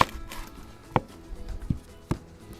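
A knife chops through a large onion on a board, cutting it into quarters: three sharp separate thunks spaced about a second apart, close and clear, with quiet between them and no talking.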